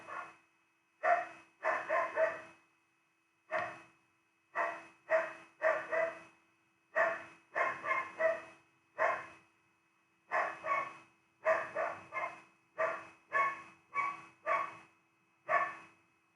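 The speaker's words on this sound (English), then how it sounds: "Ignore that dogging. It's just a mad dog." A dog barks repeatedly in irregular bursts of one to three barks, separated by short pauses, moderately near with no other sounds around.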